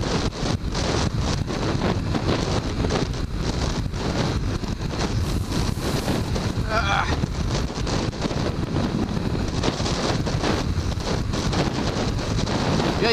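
Strong wind on an extremely windy day roars steadily into the microphone on a ride past fields and wind turbines, a dense, continuous buffeting with no voices.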